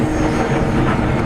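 An FMS Maule 1500mm RC plane takes off with full flaps, its electric motor and propeller giving a steady, loud buzzing whir that holds evenly throughout, close by and with no talking over it.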